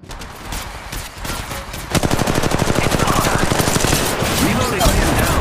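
Rapid automatic gunfire from the Apex Legends Mobile video game: a few sparse shots, then a sustained fast burst of loud, close, evenly spaced rounds.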